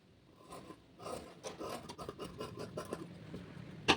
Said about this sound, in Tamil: இதை நம்ம அப்படியே கட் பண்ணி எடுத்துடலாம்.